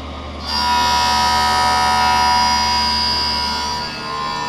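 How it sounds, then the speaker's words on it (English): An optical lens edging machine cuts an eyeglass lens for Ray-Ban 2132 New Wayfarer bifocal glasses while water runs, making a loud, steady whirring drone with a high whine that eases slightly near the end. "your lens is going to begin cutting. Now if you notice, there is water running in the background"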